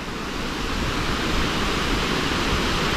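Rainbow Falls pours steadily on a cool winter hike, a loud, dense, unbroken roar of crashing water heard close by with no other sounds.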